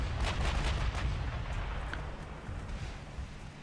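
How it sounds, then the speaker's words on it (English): 5-inch secondary guns firing in the naval video game Ultimate Admiral Dreadnoughts, a dense rolling rumble of overlapping booming shots with sharper reports on top, loud and continuous. "these are all the 5-inch guns landing hits on the light cruisers"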